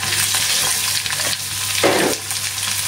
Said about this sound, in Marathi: कांदा इथे छान परतून घेऊया.